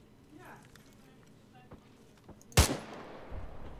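A single sharp, loud gunshot from ARMA 3 video game gunfire aimed at a Ural truck, preceded by faint scattered sounds and quiet background, with a brief tail after the crack.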